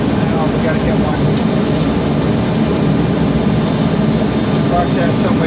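The port engine of a Mallard aircraft runs during engine start: a loud, steady, close drone of broad engine noise with a faint high whine, holding constant throughout.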